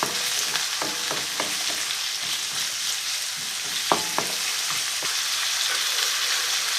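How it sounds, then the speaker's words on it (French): Turnips sizzle steadily in a hot pan with beef and lemongrass, with a spoon scraping and knocking against the pan in a few sharp strokes, close and fairly loud, with no voices. "Au bout d'une minute, j'ajoute mes navets. Un tour de cuillère."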